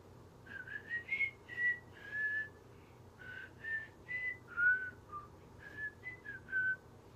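A person whistles a melodic tune in short rising and falling phrases during a live stream. The whistle is soft and close, alone over a faint low background hum.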